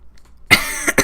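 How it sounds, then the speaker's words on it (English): A single sharp cough bursts out close to the microphone after a moment of near silence, followed by a short second cough-like burst. "coughed at the beginning of that one"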